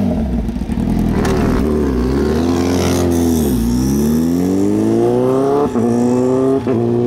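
A 2019 Honda CBR 1000 RR engine revs hard and loud up close, pitch rising and falling through several throttle blips, with brief drops between revs.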